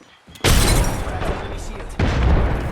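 A frag grenade in the video game Apex Legends goes off in a loud, close boom, then a second heavy blast follows about a second and a half later, with a voice heard in the mix.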